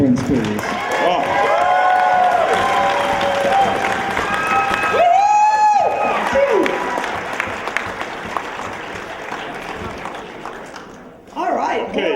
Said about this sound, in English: A round of applause for all the entrants, please